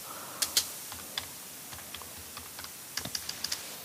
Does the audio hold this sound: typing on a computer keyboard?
yes